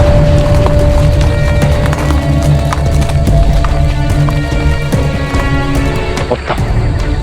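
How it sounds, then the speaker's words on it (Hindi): Horse hooves clip-clop steadily in a busy period-drama scene, loud and close, with a faint whinny and some background voices mixed in. "कुंवर प्रताप जी, आप हमारे घोड़े ले जाइए, हमारे पास और घोड़े हैं। अश्व लाइए।"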